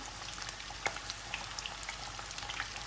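İzmir köfte meatballs fry in a pan, giving a steady, soft crackle with scattered small pops over about three seconds and no talking.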